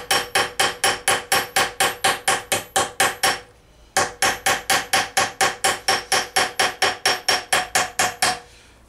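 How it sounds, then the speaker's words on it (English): Rapid, even rounded fluting hammer blows ring on metal gauntlet pieces in two long runs of about fifteen strikes each, separated by a brief pause, close and loud. "get yourself a rounded hammer, fluting hammer"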